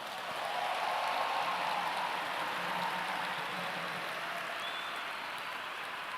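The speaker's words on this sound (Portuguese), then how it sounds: "Quem quer viver isso, bata palmas agora." A large audience at a Catholic gathering claps together, a dense, even wash of applause that stays loud and steady from start to finish with no voices on top.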